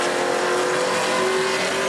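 A sportsman race car roars at speed on the New Smyrna speedway, a steady loud engine drone with a sustained tone and no break.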